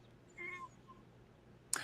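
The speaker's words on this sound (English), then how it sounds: "as soon as you said like a question, there was a meow" A faint, short meow from a cat somewhere in the room, barely rising above quiet background noise, followed by an abrupt sharp click.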